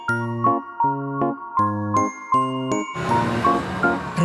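Bell chimes ring out in a regular sequence of five evenly spaced clear tones, each bright and ringing with lingering overtones, then a denser burst of jingling and clanging at the end; no voices.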